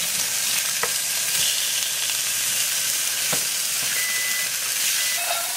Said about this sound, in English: So we're just going to flip the pork chops.